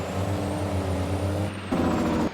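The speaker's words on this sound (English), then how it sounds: "Oh man, what a great sounding truck." A Mack semi truck engine in Farming Simulator 22 runs close and loud with a steady low rumble, then its tone shifts toward the end as the revs change. Nobody speaks.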